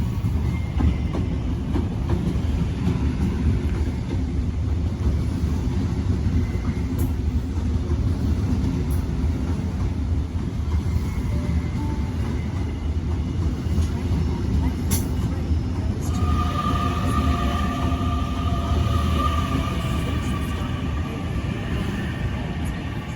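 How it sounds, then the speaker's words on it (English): A Newcastle interchange passenger train of two four-car sets rumbles through Strathfield station, a loud sustained roar and rattle of wheels on track with a brighter tone rising near the end as it passes. "here we have a Newcastle interchange service"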